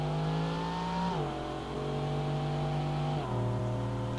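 A 1.7 liter V16 car engine in BeamNG.Drive, humming steadily near and loud, its pitch dropping once at about a second in and again near three seconds, alone with no talk.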